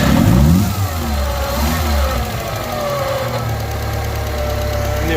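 A Volkswagen Golf with an old, poorly running engine catches and revs loudly up close, then settles into a steady rough running hum.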